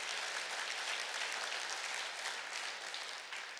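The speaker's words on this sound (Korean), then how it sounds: "박수를 치려면 확실하게 치시기 바랍니다." Church congregation applauding during a Sunday worship service, a steady, dense wash of clapping that holds evenly throughout, fairly soft and distant, with no voices over it.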